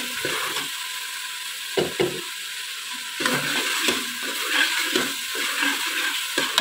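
Oil sizzling steadily in a pan while cooking green bottle gourd (lauki), a continuous hissing fry with occasional soft clinks and stirring knocks, no voices.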